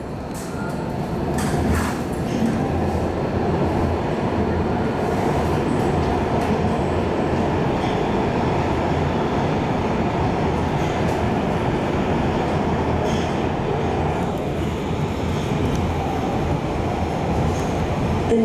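Interior ride aboard a MARTA Red Line subway train, Atlanta, heading to the airport: a steady, loud rumble of wheels and car body throughout, with faint track clatter and no voices.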